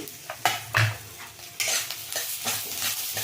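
Tomatoes going into a hot pan for a fish curry set off a steady sizzle, broken by scraping spoon strokes and light clinks of utensil on metal, close and moderately loud.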